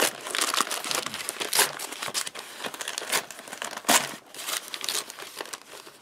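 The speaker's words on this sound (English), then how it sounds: "So I'm going to just take this little trusty little scalpel knife and cut right in there." Foil-lined MRE meal bag crackles and crinkles loudly up close as a scalpel knife cuts it open, a run of sharp irregular rustles and tearing bursts without speech.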